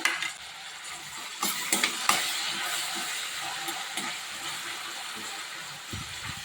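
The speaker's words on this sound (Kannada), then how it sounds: "ಮೀಡಿಯಮ್ ಫ್ಲೇಮ್ನಲ್ಲಿ ಇಟ್ಕೊಂಡು ಚೆನ್ನಾಗಿ ಫ್ರೈ ಮಾಡ್ಕೊಳ್ಳಿ ನೆಕ್ಸ್ಟು ಟೊಮೆಟೊನ ಹಾಕ್ಕೊಳ್ತಾ ಇದ್ದೀನಿ" Tomatoes fry over a medium flame for dal khichdi, giving a steady low hiss with occasional stirring scrapes in the pan, close and moderate.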